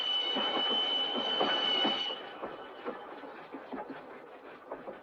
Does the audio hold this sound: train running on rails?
yes